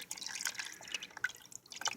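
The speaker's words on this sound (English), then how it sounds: "Oil is starting to drip all over the place here." Hot motor oil dripping from the drain of a Kawasaki Ninja 250 motorcycle into a catch pan, a quick run of small irregular drips and splats, close and fairly faint, with no talking.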